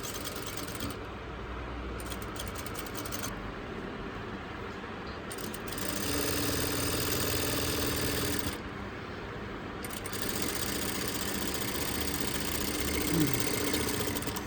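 A sewing machine runs in bursts stitching a blouse cord, a steady mechanical whirr that starts, stops and resumes, louder in the latter half, with no speech over it.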